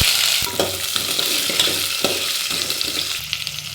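Chili, finely chopped garlic and onion fry in hot oil as a tempering for vegetable sambar, giving a steady, close sizzle with occasional soft stirring scrapes throughout.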